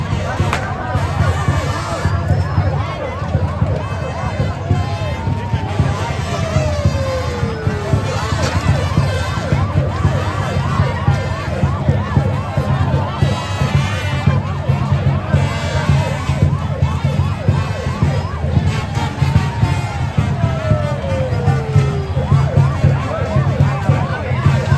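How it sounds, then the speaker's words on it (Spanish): Sirens wail at the start of the Parrandas de Remedios festival in Remedios, Cuba, two slow rising-and-falling sweeps over a dense, loud crowd murmur and steady outdoor din that runs throughout. "Las sirenas y el sonido de un gallo marcan el comienzo de todo."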